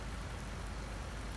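Steady, dense rain from the Farming Simulator 19 video game, a continuous even hiss of falling drops at moderate level with no talk over it.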